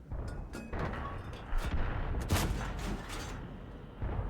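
Heavy cannon shots from an M48A2 Räumpanzer tank in World of Tanks boom repeatedly over a constant rumbling engine drone, with mechanical clanks between blasts in a game-like battle soundscape.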